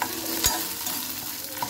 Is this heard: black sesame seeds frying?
yes